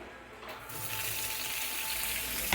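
Food hits a hot pan and browns with a broad, steady sizzle that starts a moment in and then holds loud and close, with no talk.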